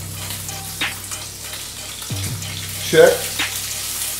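Scallops searing in oil in a pan, a soft steady sizzle under occasional clinks and a short spoken word, with a brief scrape partway through.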